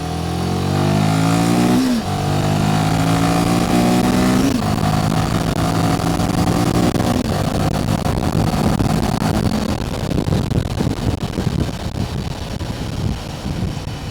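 A Royal Enfield Himalayan 450 motorcycle engine accelerating up a road, loud rising revs climbing through gears with brief dips at each shift, then settling into a rushing drone under heavy wind buffeting.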